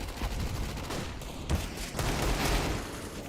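Rapid gunfire from a Counter-Strike match, a dense run of overlapping shots and bursts that fills the whole moment with no voices over it.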